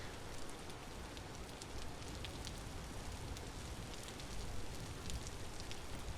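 Rain pours in the video game Vintage Story as a dense, steady hiss of drops pattering on surfaces, with scattered sharper ticks throughout and no voices.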